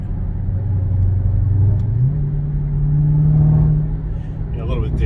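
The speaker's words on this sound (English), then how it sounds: "Have to hear that exhaust note." Rumbling V8 exhaust of a Dodge Charger Redeye, a deep steady drone that rises in pitch as the engine revs, then settles back near idle with a faint gurgling burp at the end.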